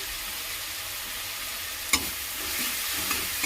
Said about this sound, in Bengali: রসুন বাটা দিয়ে দিচ্ছি